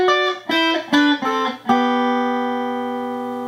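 An electric guitar plays a short fill of quick plucked notes in sixths sliding between pitches, ending on a sustained ringing chord that slowly fades.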